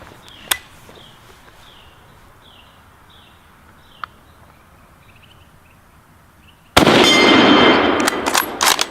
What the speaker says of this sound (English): Let's load this German Mauser and shoot it.